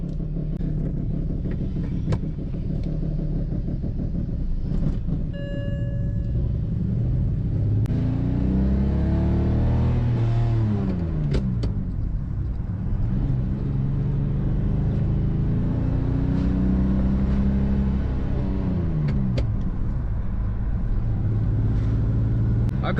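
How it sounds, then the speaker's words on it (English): A rough-running BMW 325i with a swapped-in manual gearbox and a coolant leak drives along. The engine drones low and steady, rising and falling through several revs and gear changes, heard from inside the cabin. "This is my very rough running BMW 325i with a manual swap."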